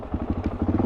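A Suzuki DRZ400 motorcycle engine catches on the starter, a short run of close, lumpy low thumps settling into a rough pulsing beat.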